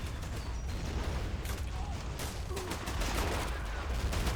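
Sustained Vickers machine gun fire and scattered gunshots in a World War I battle game set at the Hindenburg Line, a dense continuous crackle of bursts at mid distance with no voices.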